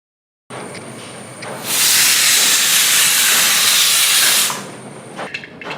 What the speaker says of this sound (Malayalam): നമുക്കിതിലേക്ക് കുറച്ച് വെള്ളം ഒഴിച്ച് ഒരു വിസിൽ വരുത്താം